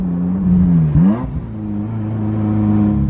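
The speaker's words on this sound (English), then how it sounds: "So some people prefer that raw race car sound of the 1995." A straight-piped 1995 Ferrari F355 with no catalytic converters, its loud raw engine idling lumpily, blipping up in one quick rev near the start, then settling back to a steady rumbling idle up close.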